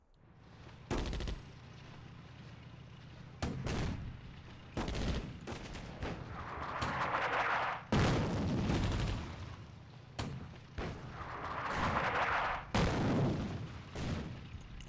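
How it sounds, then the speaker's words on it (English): Gunfire, artillery and an airstrike in the Attack at Dawn: North Africa war game: bursts of shots and booming blasts at irregular intervals, with two longer rumbling explosions, moderately loud and without speech. "Airstrike."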